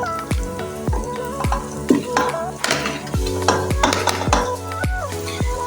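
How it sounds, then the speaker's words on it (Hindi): Chicken and onions fry together in a pan for a cauliflower-and-chicken gobhi gosht, a steady close sizzle broken by repeated sharp clinks of a spoon against the metal as the mix is stirred. "चिकन और प्याज को हम लोग एक ही साथ फ्राई करेंगे"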